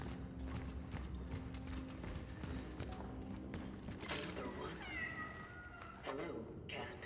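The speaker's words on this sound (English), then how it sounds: "Hello, cat." A cat meows a few times in the video game Cronos: The New Dawn, short rising cries heard close over a low game background with mechanical clicks and clopping, and a voice talks at points.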